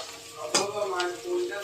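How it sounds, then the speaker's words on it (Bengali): Beans, carrot and onion frying in hot oil, a steady soft sizzle with a few sharper crackles and pops, close and moderately loud, no talking. "দেখো এখানে সবজিটা আমার ভাজা হচ্ছে"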